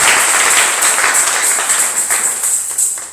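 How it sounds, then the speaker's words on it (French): Loud, sustained applause from a church congregation fills the space, with bursts of clapping rising and falling over a continuous wash of hands. "Acclamons la parole du Seigneur."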